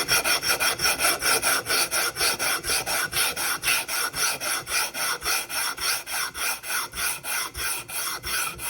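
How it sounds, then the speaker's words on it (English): A piece of steel is rubbed back and forth on sandpaper to flatten it, giving a steady rhythmic rasping stroke roughly three times per second, close and alone with no talk. "I take the steel, and I take some sandpaper, and I'm just going to rub back and forth and get this nice and flat"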